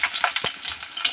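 Onions for mutton keema fry in a pan, a close bright sizzle broken by quick stirring scrapes and a thud.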